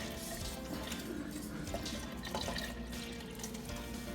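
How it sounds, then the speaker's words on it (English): Milk and chicken broth pour together into a pot for chicken pot pie filling, a steady close-up trickle and splash of liquid running continuously without pause, with no talking. "Katie is going to put the liquid in now, and this is our milk and our chicken broth"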